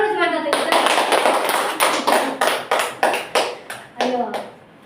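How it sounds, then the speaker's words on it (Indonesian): A group claps in unison in a series of sharp, loud rhythmic bursts that taper and restart, with voices in the background. "Tepuk tangan dulu semuanya."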